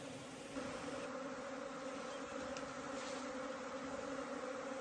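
Honeybee swarms arriving together at a bait hive on a hillside beside an old house, giving a steady, dense buzzing drone of many bees that holds even throughout, with no talk.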